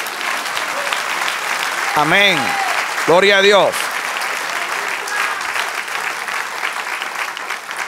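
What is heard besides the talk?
congregation applause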